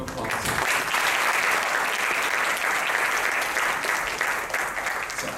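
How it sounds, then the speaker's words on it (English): An audience at a youth leaders' forum opening ceremony gives a guest speaker a big round of applause, a loud, sustained wash of many hands clapping evenly, with faint voices underneath. "Please give our guest speaker once again a big round of applause."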